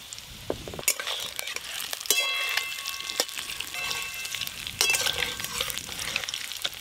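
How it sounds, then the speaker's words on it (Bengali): Eggs frying in a pan, a close, steady sizzle with scattered sharp clinks and scrapes of a utensil stirring, no talk. "ডিমগুলো প্রায় ভাজা হয়ে এসেছে"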